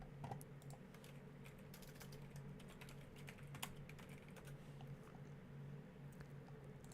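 Faint, close computer keyboard key presses sound as the minus hotkey is tapped, a few light scattered clicks over a quiet room hum.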